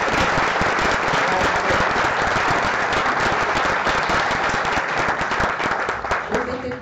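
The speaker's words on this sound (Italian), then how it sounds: "Un bel applauso." A museum audience at an art event gives artist Alfredo Buonalumi a hearty round of applause, dense sustained clapping from many hands that stays loud throughout and eases slightly at the very end as a voice begins.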